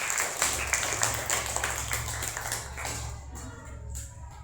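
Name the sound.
audience applause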